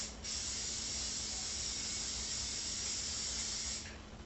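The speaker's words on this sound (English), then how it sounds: "grease that with some cooking spray" Cooking spray hisses steadily from an aerosol can for nearly four seconds while greasing a 9x13 baking pan, a close, even spray with no talk.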